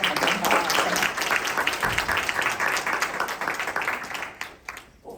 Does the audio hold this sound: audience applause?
yes